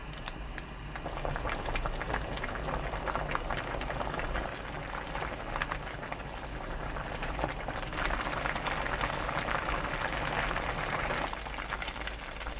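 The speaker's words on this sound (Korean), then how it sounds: "가끔 저어가며 센 불로 2분 끓여주세요." Mugwort porridge with crab stick and enoki mushrooms bubbling on high heat, a steady dense simmer and popping of thick liquid, close and continuous with no voices.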